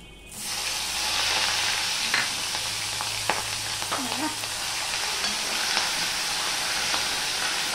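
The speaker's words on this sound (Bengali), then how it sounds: "আদা কাঁচা লঙ্কা দিলে তেল ছিটবে" Ginger and green chilies hit hot oil and burst into a loud, sustained sizzle that holds steady, with occasional spatters and a utensil clink up close.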